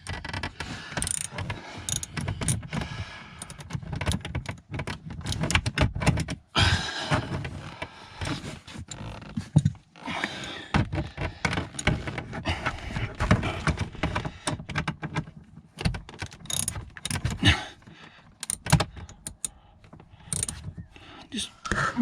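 A 10mm bolt is worked loose on a 2013 BMW F30 318 during a service, with irregular ratcheting clicks, metallic clanks and fumbling tool noise close up, continuing busily without pause.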